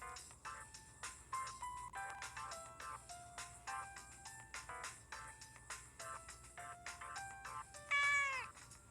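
Repeated short meows from a cartoon cat in the PSP game Joker no Kuni, each cry rising and falling over a steady game background, with a louder, brighter mew near the end. No one talks.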